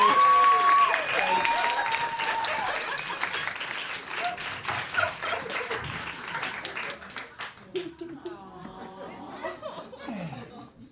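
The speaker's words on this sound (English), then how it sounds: "Folks, a round of applause." Audience applause at a live show, loud and dense at first and tapering over about ten seconds, with laughter and chatter rising through it and voices talking near the end.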